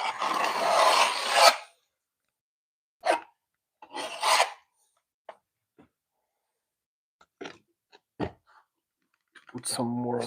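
A handheld multi-tool scraper rasps across a surface during a renovation job, in several short, separate scraping bursts with quiet pauses between them, the first stroke the longest and loudest.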